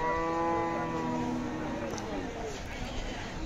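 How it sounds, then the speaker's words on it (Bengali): A cow at a crowded rural cattle market held before Eid al-Adha lets out one long, loud moo that fades over a few seconds, with market crowd noise throughout. "এই মাত্র যে গরুটি দেখানোর চেষ্টা করছি আপনাদের"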